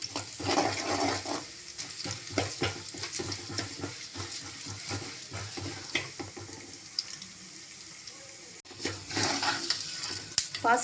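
Steady sizzling and stirring in a pan as moong dal lentils fry in hot oil, with scraping strokes throughout and a short pause near the end.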